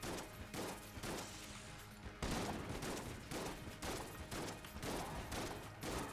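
Rattler gun firing in the video game Enter the Gungeon, a steady run of rapid gunfire bursts with crashing impacts, repeating throughout with no talk.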